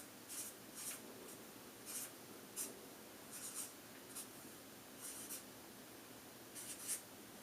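A pen or pencil writing numbers by hand on paper, giving soft, close scratchy strokes in short irregular bursts over a faint steady background hiss.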